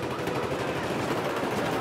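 MP7 submachine gun firing in Battlefield 4, heard as a dense, steady rattle of rapid automatic shots that runs unbroken for the full stretch, close and loud over a busy game backdrop.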